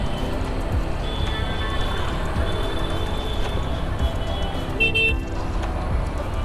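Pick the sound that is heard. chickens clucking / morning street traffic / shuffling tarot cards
morning street traffic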